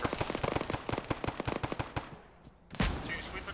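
Rapid, close bursts of automatic gunfire crackle in an Arma-style military shooter as a squad comes under fire near Virolahti, then the shooting thins out before a heavy blast or volley near the end.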